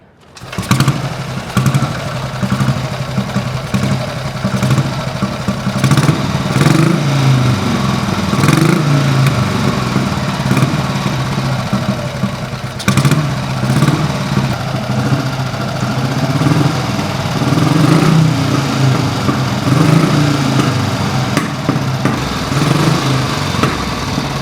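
A wartime Ariel 350 single-cylinder motorcycle fires up and settles into a loud, steady, close-up thumping idle that runs unbroken with small throttle variations.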